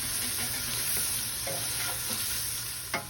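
Vegetables sautéing in a pan with a little salt, a steady hissing sizzle up close, broken by a few soft stirring scrapes and a light knock near the end.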